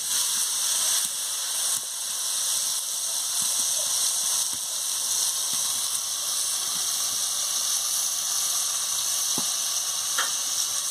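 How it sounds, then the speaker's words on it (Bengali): Mixed vegetables and dal lentils fry in a pan with a steady, bright sizzle and hiss, punctuated by occasional soft stirring taps. "ডালটা দিয়ে আমি ভালো করে ভেজে নিচ্ছি।"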